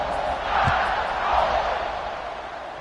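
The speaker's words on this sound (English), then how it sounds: "this crowd is buzzing after that last score" A stadium crowd in College Football 26 at a Clemson game buzzes as a broad, diffuse roar, swelling and easing slightly at a moderate distance with a few thuds.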